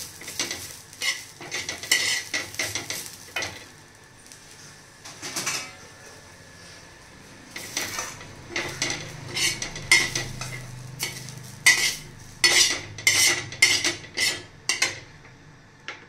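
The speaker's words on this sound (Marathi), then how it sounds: "खोबरं आणि कांदा असं मी एकजीव करून आता छान परतून घेतला" Grated coconut and onion are stirred and roasted in a pan, with repeated scraping strokes of a spatula against metal over a light sizzle. The strokes grow quicker and louder toward the end.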